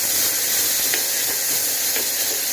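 Tomatoes with garlic-ginger paste sauté in a pan over medium heat, giving off a steady, loud sizzle with faint stirring scrapes.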